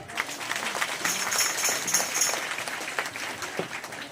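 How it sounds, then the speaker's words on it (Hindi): Crowd at a public gathering claps in welcome, a moderately loud, continuous scatter of hands with some sharper individual claps standing out, no speech over it. "जोरदार तालियों के साथ में स्वागत"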